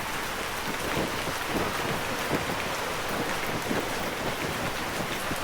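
Steady rain with gusting freezing wind during a February winter storm, heard while camping outdoors with no tent or tarp; a dense, continuous wash of rain patter and wind, close and loud throughout with no talking.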